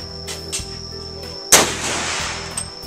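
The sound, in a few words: gunfire at the Cu Chi Tunnel shooting range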